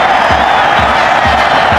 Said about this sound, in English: the Oranje supporters have something finally to cheer about